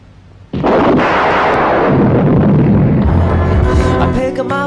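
A loud, booming explosion bursts in suddenly after a quiet moment, then rolls and rumbles for several seconds before fading into crackling debris.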